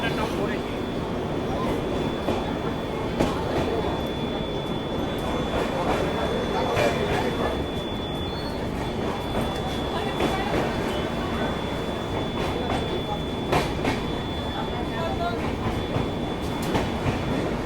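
The Saraighat Express between Howrah and Guwahati rolls steadily along the rails, a continuous loud rumble with rhythmic clacking heard from inside the carriage, plus a faint high whine throughout.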